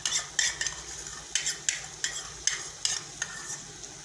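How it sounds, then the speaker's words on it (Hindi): A spoon stirs yogurt, green chilli and masala frying in a pan, scraping and clinking against the metal in a steady rhythm of about a dozen strokes over a low sizzle. "साथ में मसाला लेके भुनाई कर दें।"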